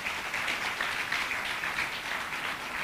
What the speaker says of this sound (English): Let's clap for the judges.